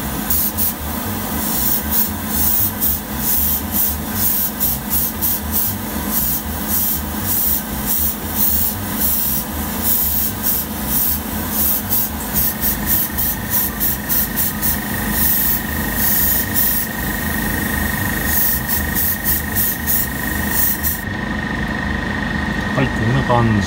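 Steady airbrush spray of fluorescent orange clear paint over grey surfacer on a Mazda 767B race car scale model, a continuous hiss with a pulsing compressor rhythm, someone talking over it throughout.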